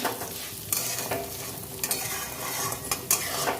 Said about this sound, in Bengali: মুসুরির এই মুগ ডালটা ভেজে নেব